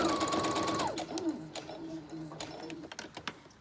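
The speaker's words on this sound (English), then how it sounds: "by putting my presser foot along the edge of my fabric here, that gives me a straight stitch" Sewing machine stitching a straight fabric seam with the presser foot guided along the edge, a fast loud mechanical whir that slows and winds down into scattered clicks and taps near the end.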